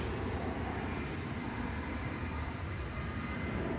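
American flight 2390 departing DFW Airport at night on a red-eye to Las Vegas, a loud, steady broadband jet roar held throughout without talk.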